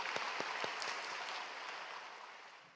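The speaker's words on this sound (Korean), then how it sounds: "오늘 우리에게 큰 은혜와 도전의 말씀을 주신 A국 곽이삭 선교사님께 감사의 박수를 올려드리겠습니다." A church congregation applauds a visiting missionary at an early-morning service: fairly faint, distant clapping from many hands with a few distinct early claps, slowly fading out.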